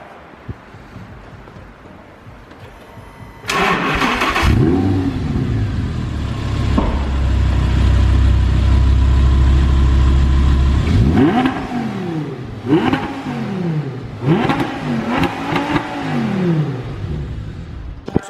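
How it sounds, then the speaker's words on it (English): An Audi R8 Spyder V10 engine starts with a bark, then revs repeatedly, rising and falling in sharp throttle blips, loud and close with no talking. "we couldn't end the video without revving the bad boy, the V10."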